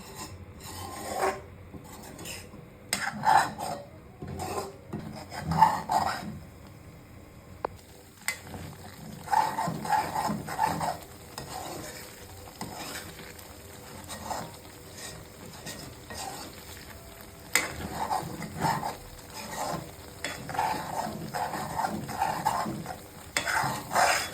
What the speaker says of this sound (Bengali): নাড়তে হবে আপনার একটু ভালোভাবে ধৈর্য সহকারে নাড়বেন